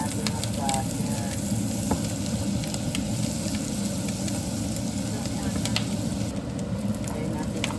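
Butter sizzling in a hot frying pan while cooking tuna sisig, a steady crackling hiss that fills the whole stretch, with occasional clinks of a utensil.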